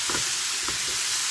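Chopped onion and smoked bacon sizzle steadily in a hot pan, a broad frying hiss with a couple of soft stirring scrapes, close and continuous.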